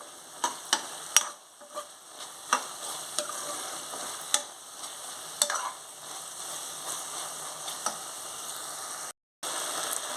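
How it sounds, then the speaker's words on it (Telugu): Mutton keema is stirred in a hot pan under a steady soft sizzle, with a spoon clicking against the metal at irregular intervals before a brief silent gap near the end. "ఒకసారి కలుపుకుందాం."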